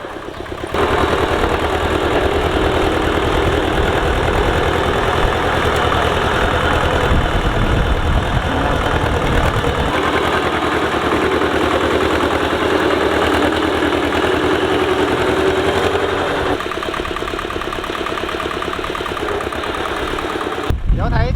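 An old walking tractor engine, just repaired, runs steadily and loud while plowing a field, a constant rough chugging drone with vibration throughout and a slight change in tone partway.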